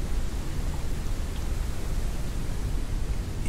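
Steady, dense rain in the Forever Skies video game, a continuous even hiss with a low rumble underneath, heard alone and with no breaks.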